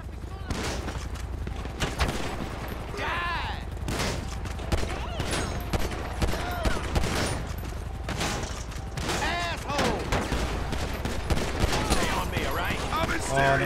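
Dense gunfire crackles through a police shootout video game at night: rapid volleys and sustained automatic bursts, loud and continuous throughout, with shouted voices mixed in among the shots.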